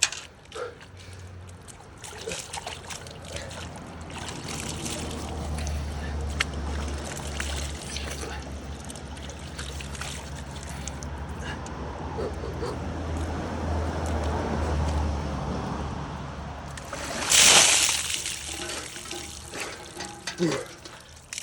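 Water splashing and sloshing, continuous and fairly close with a brief louder splash near the end, while a person speaks and exclaims over it.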